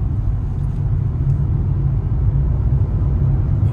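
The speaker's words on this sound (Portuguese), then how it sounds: "Estamos a 60 por hora numa rotatória bem fechadinha e o carro realmente aceita tudo" A Honda New City 2025 taking a tight roundabout at 60 km/h, heard as a constant low cabin rumble of engine and road noise, steady and loud with no breaks.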